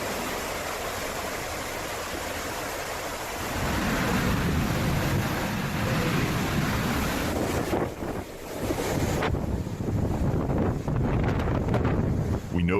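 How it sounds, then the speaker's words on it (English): Howling hurricane wind from Hurricane Harvey, sustained over 130 mph, roaring and buffeting the microphone in a loud continuous rush that intensifies partway through, with gusty surges. "Storm chasers were now there, capturing audio of the howling wind and footage of buildings being shredded in the darkness."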